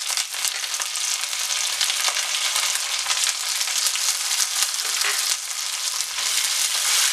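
Ginger and garlic frying with browned coconut pieces in a pan for Kerala-style kadala roast, a loud dense sizzle close up with occasional stirring scrapes throughout.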